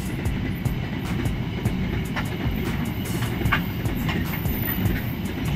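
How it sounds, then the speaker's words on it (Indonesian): A long freight train of container wagons rolls past at a disused station, a steady loud rumble with faint rhythmic clatter, heard alone. "Kereta api rangkaian panjang ini teman-teman."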